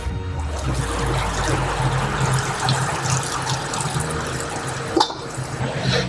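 Water running steadily from a kitchen tap over ingredients, a close continuous splashing rush with a brief clunk near the end.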